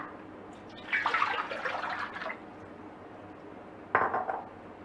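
Water, 1000 ml, splashes into a brass pan in two bursts, a longer pour followed by a short second one, with faint clinking.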